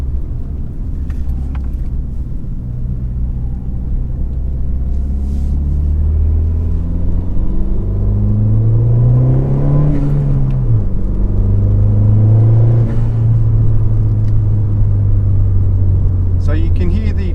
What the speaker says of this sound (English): So you can hear the diverter valve louder